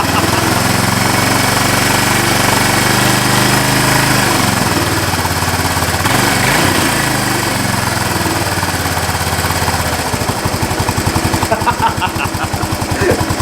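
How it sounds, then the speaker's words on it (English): Yamaha SR250 motorcycle engine cranking and firing into a loud, steady rough running rumble, close up, with a faster pulsing throb toward the end. "There's nothing gushing out, so let's go choke. Ignition. See what happens."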